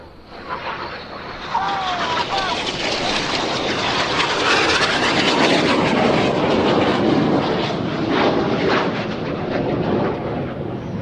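Jet aircraft engines roar loudly and continuously during an airshow display, a broad sustained rush that swells and holds across the whole stretch.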